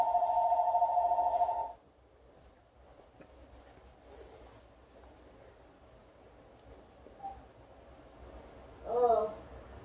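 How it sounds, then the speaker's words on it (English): A telephone rings in a home kitchen during soap making, one loud electronic trill at the start, followed by quiet room sound and a voice answering toward the end. "And of course the phone rings."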